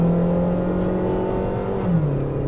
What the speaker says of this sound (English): the top of the rev range in this engine is quite noisy